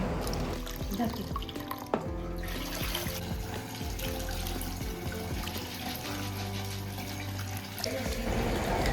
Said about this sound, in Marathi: ज्या डाळी घेतलेल्या आहेत त्यांना 3 ते 4 वेळा पाण्याने स्वच्छ धुवून घेणार आहे